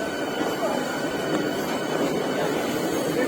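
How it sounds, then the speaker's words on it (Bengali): A first AC local train rolls into platform 6 at Sealdah station, a steady loud low rumble of wheels and carriages with broadband noise throughout, crowd murmur of waiting passengers underneath. "তারপরে এই 6 নম্বর প্ল্যাটফর্মে ট্রেন ঢুকছে।"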